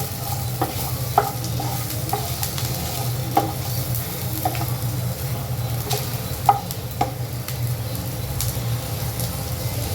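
Dried chili, onion and garlic frying in a little oil, a continuous sizzle with a low hum underneath and scattered clicks and scrapes of stirring.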